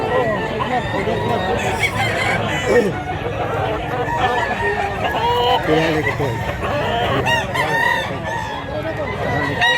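Gamecocks at a cockfighting venue in Mantalungon, Cebu crow repeatedly and cluck close by, while a crowd chatters and people talk over them.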